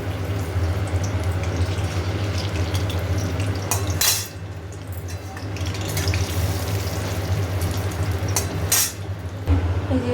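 Fish fritters in a batter of flour, gram flour, salt, sugar and chilli powder fry in hot oil with a constant close sizzle, punctuated by a few clinks of a metal utensil against the pan, with no talking.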